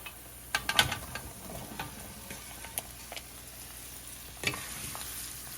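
Carrots and cauliflower are stirred with spices in a pan, a soft continuous sizzle with intermittent clicks and scrapes of the spoon against the pan, fairly quiet and close.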